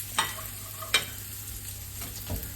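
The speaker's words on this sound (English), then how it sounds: "So now we're gonna put in the onions in here." Onions fry in a pan over a gas flame with a low continuous sizzle, broken by two sharp stirring scrapes early on and a softer one near the end.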